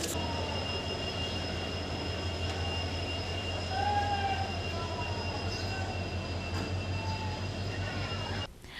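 A train bound for Ayodhya stands or moves at Agartala station, with a steady low rail rumble, high thin wheel squeals drifting in and out, and faint crowd murmur beneath.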